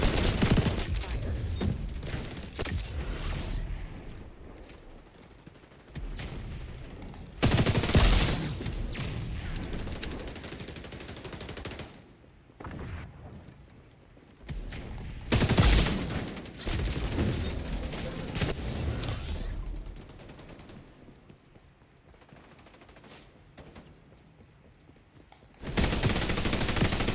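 Gunfire in the video game XDefiant: loud bursts of rapid automatic fire, broken by short pauses and mechanical clatter, with quieter stretches between volleys.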